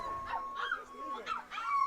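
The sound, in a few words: dogs barking in the background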